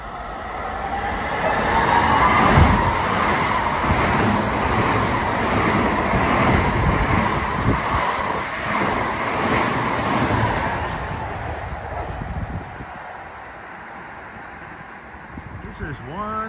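An LIRR commuter train, number 2057, rumbles into Merillon Avenue station, a loud sustained roar of wheels and cars passing close that fades away toward the end, with a voice talking over it.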